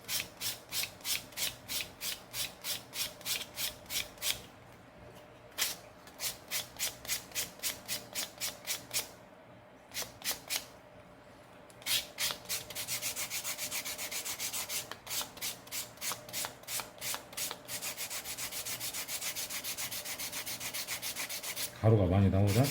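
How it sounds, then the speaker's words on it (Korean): Rhythmic rasping strokes of coarse 200-grit sandpaper rubbing leather, steady back-and-forth bursts with brief pauses, close and fairly loud. "여기에서 이제 사포로 한 번 더 다듬어 주게 됩니다."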